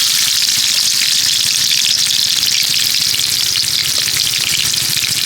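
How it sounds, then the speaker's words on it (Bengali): Prawns frying in mustard oil in a wok give a loud, steady sizzle that holds without a break from start to finish, with no voices over it. "এবার চিংড়ি মাছগুলোকে ভেজে নেব"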